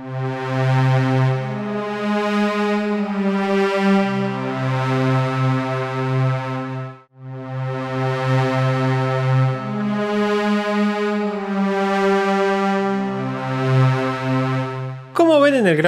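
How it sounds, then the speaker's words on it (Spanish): A sustained string-ensemble preset on the Vital software synthesizer plays long, swelling chords with slow fades, one brief gap midway and a short bright sweep at the very end, with no voices. "Voy a usar un preset de cuerdas en Vital que suena así."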